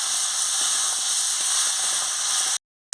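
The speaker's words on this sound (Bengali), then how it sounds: "ভালো করে আনাজগুলো মশলার সঙ্গে কষিয়ে নিচ্ছি" Vegetables for a Bengali village-style bata fish curry with pui shak are sautéed with spices in a pan, giving a loud, steady close hiss and sizzle with faint crackles that cuts off abruptly near the end.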